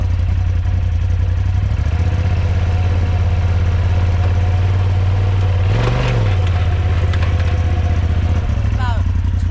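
Polaris RZR engine running in low gear with a steady, loud low drone that rises and surges briefly midway as the vehicle bucks, then settles back into the hum.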